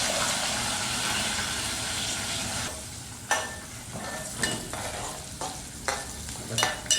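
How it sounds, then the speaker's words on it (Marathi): Onion sizzles and fries in hot oil in a pan while being stirred, a continuous bright hiss broken by several sharp scraping strokes of the spoon toward the end. "कांदा आपण परतून घेऊ, कलर येत नाही तोपर्यंत."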